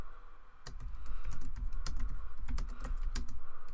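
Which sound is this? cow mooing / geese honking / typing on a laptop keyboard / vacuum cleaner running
typing on a laptop keyboard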